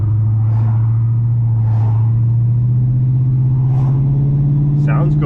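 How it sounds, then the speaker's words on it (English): Ford Mustang with a 4.6 SOHC V8 and a stainless steel X-pipe exhaust, driven on the road under load: a close, steady low exhaust drone whose pitch creeps upward, with a few light chirps and rattles above it. "let's get her out on the road and see how this thing sounds under load."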